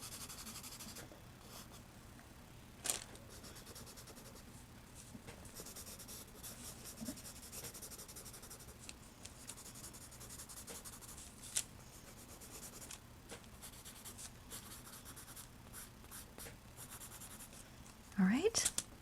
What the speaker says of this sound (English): Anywhere I can see any white that shouldn't be there, I'm going to erase with the 6B.